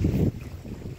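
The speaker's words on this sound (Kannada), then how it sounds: "ಗಾಳಿ" Wind gusts at Agumbe ghat during a bike rally, a rough low rumble that is strongest for a moment at the start and then settles into a softer, steady buffeting.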